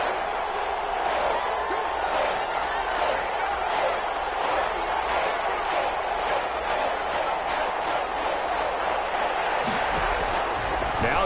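Stadium crowd noise roars in the Madden 21 football video game, a steady, dense wash of cheering with rhythmic thumps and claps, under a commentator's voice.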